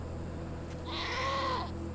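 In the video game Wasteland 2, a goat lets out a single wavering bleat lasting under a second against a steady low background hum.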